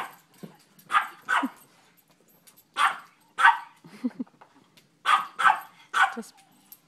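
Small dogs, including a little chihuahua, bark in short sharp bursts, some in quick pairs, with a few softer whimpering yips between them, fairly close and loud.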